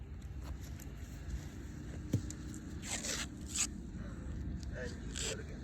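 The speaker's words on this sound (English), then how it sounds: "you take some more tape." Tape being pulled off a roll during a golf impact drill, several short ripping screeches in quick bursts against faint outdoor background noise, with a voice speaking nearby.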